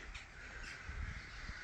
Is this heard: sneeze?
no